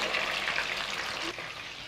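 Chicken kulfi, a minced-chicken preparation, fries in a pan as it is turned to cook on all sides, giving a steady close hiss with a slight dip near the end and no talking.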